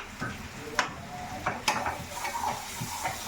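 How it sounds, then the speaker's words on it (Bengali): Pumpkin chachchari sizzles in a pan with a steady hiss, while a spatula stirs and scrapes in sharp, repeated strokes at close range. "আর এটা কুমড়ো চচ্চড়ি করছি"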